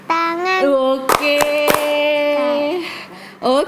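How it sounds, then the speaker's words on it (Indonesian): Kindergarten children clap along to a sung children's song. A few sharp, separate claps cut through a clear, steady singing voice that carries the melody. "Kalau kau suka hati tepuk tangan."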